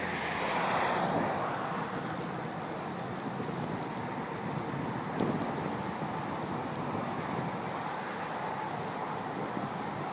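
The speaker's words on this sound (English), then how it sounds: "the traffic noise is pretty loud up here." Heavy highway traffic on I-670 in Columbus, Ohio, heard from a trail beside the road: a steady, loud broadband roar of passing vehicles with wind buffeting the microphone, continuous throughout with no talking.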